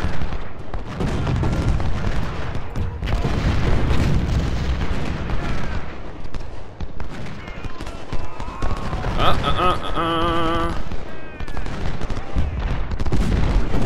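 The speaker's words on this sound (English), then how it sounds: "Oh, that is not a volley I wanted to have to take." Musket volleys and cannon booms in Ultimate General: Civil War, rolling bursts of gunfire and explosions layered densely throughout, with a brief bugle-like tone midway.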